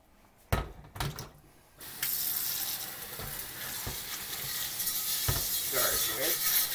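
A cast iron cornbread pan is scrubbed at a sink, starting with a few scattered knocks and scrapes, then a steady rush of running tap water with occasional clunks of the pan against the basin.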